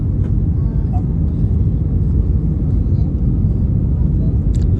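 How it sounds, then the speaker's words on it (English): Inside the cabin of a British Airways airliner during landing, a loud, steady low engine and airflow rumble fills the space continuously, with faint muffled voices and small clicks beneath it. "Look, I think we're landing now."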